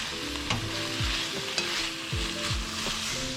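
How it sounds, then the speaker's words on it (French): Carrots fry in a skillet with a steady sizzle, while a utensil stirs and scrapes them in several quick sweeps, close and fairly loud. "j'ai aussi fait des carottes à la poêle, donc qui sont en train de cuire"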